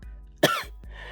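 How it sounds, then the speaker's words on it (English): A single harsh, wet cough bursts out up close as someone coughs up water, followed by a short breathy gasp. "Deku was taking in deep breaths of air as he kept on coughing up water."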